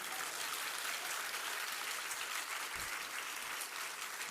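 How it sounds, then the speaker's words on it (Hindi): An audience at a religious discourse by Vidyasagar Ji Maharaj claps steadily for about four seconds, a dense, even wash of applause filling the space with no speech over it. "ताली बजानो तो अच्छे ढंग से तो बढ़ाओ"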